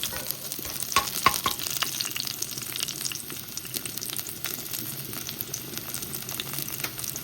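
Food sizzles and fries in a pan while a utensil stirs it. The sound is steady and close, with occasional scraping clicks early on and no talking.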